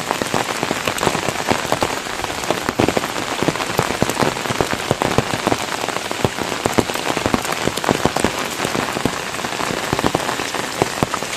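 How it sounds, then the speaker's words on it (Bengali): Heavy rain pours steadily onto hard surfaces, a dense, close hiss of countless drops with scattered louder splats, continuous and unbroken without any voices. "যেদিকে তাকাই শুধু বৃষ্টি আর পানি"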